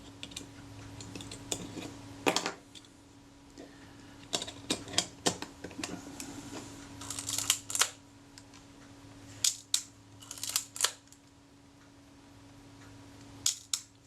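A Kodak Retinette type 030/9 camera being serviced gives crisp, close mechanical shutter clicks, scattered singly and in quick clusters, with quiet pauses and a faint steady hum behind them.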